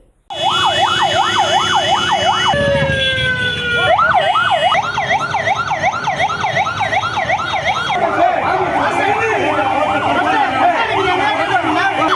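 An ambulance siren wails loudly and continuously, cycling through rapid up-and-down tones that shift pattern partway through, with traffic noise underneath.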